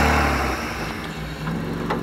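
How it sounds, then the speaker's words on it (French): A BMW E36 drift car's engine runs with a steady mid-pitched rumble and a slight lift in revs, loud and close, with no talking over it. "Hop, on va démarrer le moteur. Ça vous l'entendrez tourner."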